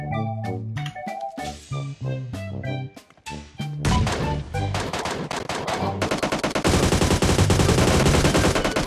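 Gunfire in the mobile battle royale game PUBG Mobile, with rapid bursts of automatic shots and single cracks. The shots start sparse, then grow into dense continuous firing, loud and close.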